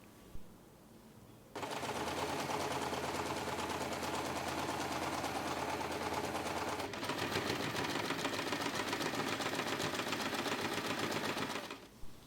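A sewing machine runs steadily, stitching lining fabric to main fabric along the sides of a small snap-button pouch, one long continuous close-up run of about ten seconds with a brief hitch midway, then stopping.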